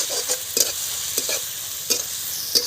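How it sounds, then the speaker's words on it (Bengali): Food frying in a pan is stirred several times with a utensil, each stroke a short scraping rasp over a steady sizzle, with garlic paste being cooked for chicken patties; no voices. "সবে একবার নেড়ে দিচ্ছি।"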